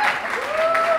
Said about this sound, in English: We can clap, it's fine.